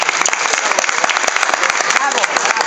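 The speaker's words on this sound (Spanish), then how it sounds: "Un aplauso para vosotros" Audience at a book presentation for the novel "La mala paz" claps in a dense, sustained round of applause, with voices mixed in underneath.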